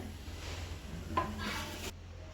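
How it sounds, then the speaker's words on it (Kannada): Dry red chillies sizzling in hot oil in a large kadai for mutton saaru, a soft crackling sizzle with a brief scrape near the middle before cutting off. "ಕಾದಿರೋ ಎಣ್ಣೆಗೆ ಒಣಮೆಣ್ಸಿಕಾಯಿ ಹಾಕ್ತಾಯಿದ್ದಾರೆ"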